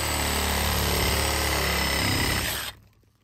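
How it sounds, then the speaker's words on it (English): A Milwaukee hacksaw cuts through an ECM blower motor housing with a loud, steady, continuous buzzing rasp that stops abruptly near the end, leaving quiet. "Got my Milwaukee hacksaw. We're going to go ahead and chop it here"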